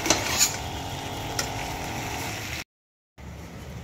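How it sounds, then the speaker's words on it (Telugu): Eggplant curry mixture is stirred in a pan, a steady soft scraping and sizzling close by, cut off by a brief dropout before resuming. "ఒక్కసారి మనం ఇలా కలిపేసుకోవాలి"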